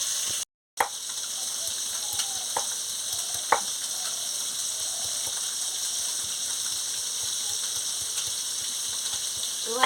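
Rohu fish frying in a pan for a Bengali-style curry, a steady close sizzle with faint pops and clicks running throughout, broken by one brief dropout near the start.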